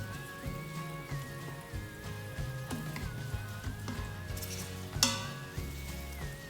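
Beef pieces searing flat against the bottom of an Instant Pot for beef stew: a soft, steady sizzle and crackle runs throughout, with a brief louder spatter near the end.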